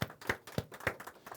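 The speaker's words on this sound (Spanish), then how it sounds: "Pues un aplauso para el Eterno" A church congregation applauding, heard as a steady rhythmic clap of hands at an even beat, fairly close and clear with no talking.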